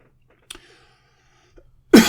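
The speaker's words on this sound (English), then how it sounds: "Oh, cough for effect there and all." A single sharp cough rings out close by, followed a moment later by a softer throat sound and then a louder, rough cough burst at the end.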